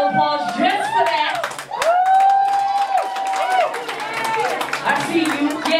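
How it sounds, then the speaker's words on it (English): Live crowd at a concert opening set claps for the performer, with loud whoops and shouting voices over and through the clapping for about six seconds. "y'all just give her a round of applause just for that"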